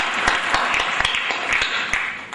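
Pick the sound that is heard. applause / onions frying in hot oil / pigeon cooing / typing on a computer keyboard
applause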